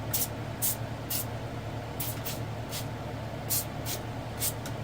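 Short hissing bursts from a 16oz glass olive oil sprayer, about a dozen quick pumps in loose clusters over a low background hum.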